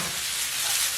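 Onions and red pepper frying in olive oil in a pan, an even, bright hissing sizzle heard close and alone for a brief moment.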